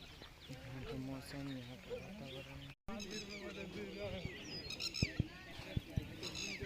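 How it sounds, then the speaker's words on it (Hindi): Birds call in a forested area of Shrawasti, India, with scattered high chirps and calls that grow busier in the second half, heard beneath someone talking nearby. "अभी जो आपने पक्षी का आवाज़ सुना"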